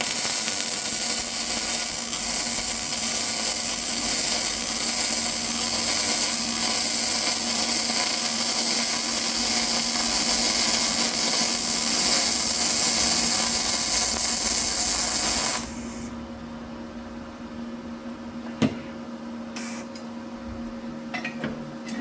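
A YesWelder DP200 multi-process welder laying a bead, a steady broad crackling hiss held for about fifteen seconds, close and loud, then cutting off to quiet room tone with a couple of small clicks.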